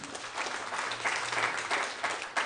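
Church congregation applauding, a dense steady patter of many hands clapping throughout, fairly close and full, with no talk over it.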